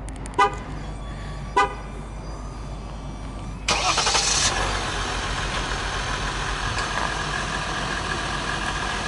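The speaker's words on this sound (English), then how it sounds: "I'm going to go ahead and start it up so you can hear the engine" A 2015 Ram 1500 Laramie Longhorn EcoDiesel pickup is remote started: two short horn-like chirps, then the diesel engine cranks and catches and settles into a steady, smooth, fairly quiet idle.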